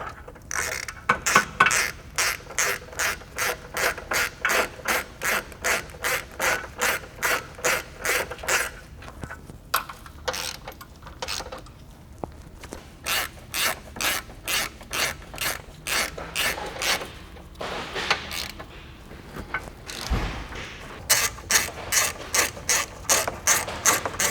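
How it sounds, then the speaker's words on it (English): A hand ratchet tightens the core support bolts on an Audi B8 3.0T, a fast string of sharp close clicks in repeated bursts with short pauses between bolts and no talk over it. "we can put the remaining 4 core support bolts in"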